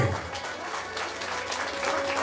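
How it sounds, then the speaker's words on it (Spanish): Wedding guests applaud as the bride and groom make their entrance at a reception in Ambato, a continuous wash of many hands clapping, fairly steady and moderately loud, with music or a hum underneath. "Y les pido de esa manera especial fuertes esas palmas que se escuchen esta noche"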